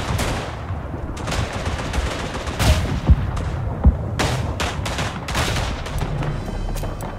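Artillery fire in the video game Verdun: a steady barrage of rumbling booms and gunfire, with a few sharp, louder blasts standing out near the middle, with no talking.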